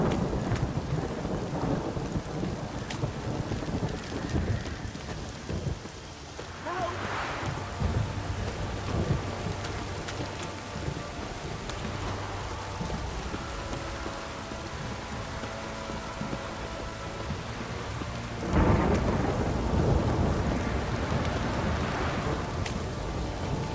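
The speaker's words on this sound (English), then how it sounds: "This downpour's a bastard," A thunderstorm with heavy rain in The Witcher 3 game: a steady rain hiss is broken by deep rolls of thunder, one early and a louder one near the end.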